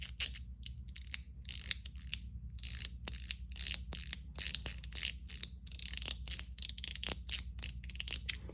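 A fidget toy, a Top F Zerk with brass inlay, spun fast out of the pocket, giving quick bursts of clicky, ratcheting whirs in rapid irregular runs, close and fairly quiet, with no voices.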